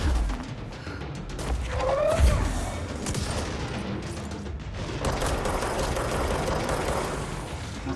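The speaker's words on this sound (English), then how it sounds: "What the hell is shooting rockets?" Rockets firing in a video game, a loud barrage of overlapping blasts and crashes with a sharp thud near the middle, followed by sustained rumbling fire.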